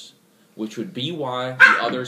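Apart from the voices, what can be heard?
dog barking while the cat picks on it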